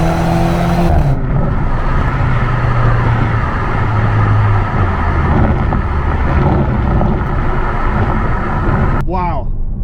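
A 2022 BMW Z4 being driven fast, its engine note rising through a gear change amid rushing wind and road noise, heard from inside the cabin, with a brief squeal near the end.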